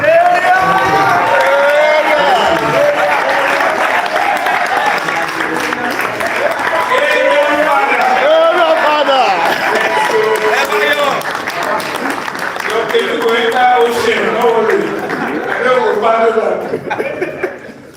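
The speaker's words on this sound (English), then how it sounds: "thank you for that round of applause" A sustained round of applause from a crowd, loud and close, with chuckles and laughter mixed in and voices talking over it throughout, before the clapping thins out near the end.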